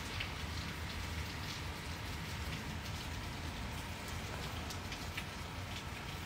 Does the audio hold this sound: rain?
yes